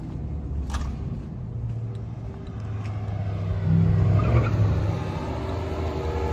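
A car spins donuts with its engine revving hard and tires skidding, a steady, fairly loud roar that swells midway and carries on without voices.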